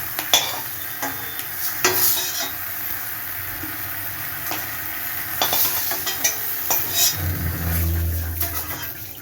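Capsicum with egg and potato stuffing fries in a pan while a spatula stirs and scrapes repeatedly, giving a close sizzling hiss punctuated by irregular metallic knocks and a rumbling stretch near the end, with no speech.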